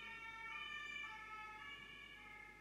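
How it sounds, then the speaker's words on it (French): A wailing siren, likely an ambulance, sounds at a distance as a steady tonal wail over low road rumble, alone with no talk. "je sais pas si on va l'entendre, la sirène."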